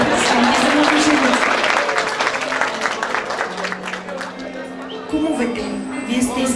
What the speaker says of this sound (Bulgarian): Аплодисменти за Манчилова.